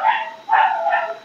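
A dog barks in a quiet, deserted village, two or three clear woofs close together, fairly near and alone with no people audible.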